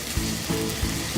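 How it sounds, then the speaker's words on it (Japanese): Bacon frying in a small amount of olive oil in a frying pan gives off a steady close sizzle. A low stirring or scraping noise recurs about every third of a second. "で、ここで、まず最初にベーコン炒めていきます。"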